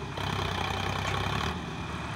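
Tractor engine running during field work, a steady close rumbling diesel drone with a low chugging pulse, loud and continuous with no talk.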